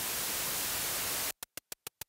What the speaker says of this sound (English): we patched SAPÈL's white noise straight to our CGM mixer